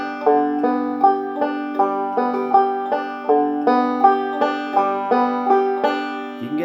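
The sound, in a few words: banjo playing an alternating (square) roll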